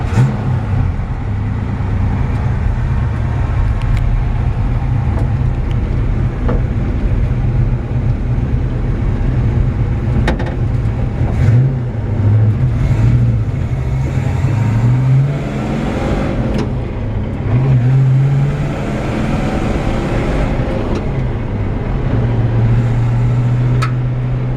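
A 1952 Chevrolet 3100 pickup with a freshly rebuilt Corvette 350 V8 and Saginaw 4-speed drives along, its engine rumbling steadily and loudly from inside the cab, with gear changes and revs rising and falling.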